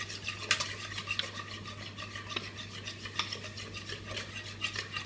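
Egg, milk, oil, salt and pepper batter for a savoury surimi, mushroom and spinach cake is stirred in a bowl, giving a steady close scraping and swishing with light clinks of a utensil against the bowl's side.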